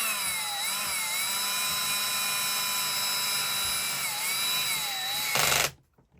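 A power drill boring into plastic with a loud, steady high-pitched whine that runs continuously for about five seconds, then cuts off abruptly to near silence.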